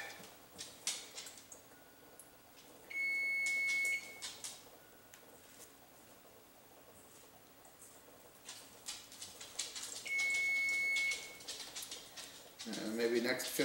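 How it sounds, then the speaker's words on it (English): A kitchen timer gives two sustained electronic beeps about a second long, several seconds apart, fairly loud over a quiet background of clinks and rustling. "I won't use the timer because clearly it's making a lot of noise"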